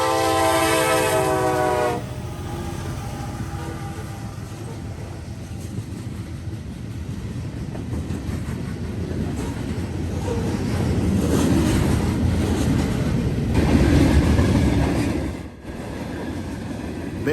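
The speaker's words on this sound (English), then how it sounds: "Our first train that we caught was this westbound loaded grain train on the CSX Willard sub at Attica Junction" A loaded CSX westbound grain train rolls past Attica Junction on the Willard subdivision. A loud horn opens, then a steady roar of wheels and rail noise holds close and grows slightly louder before easing off.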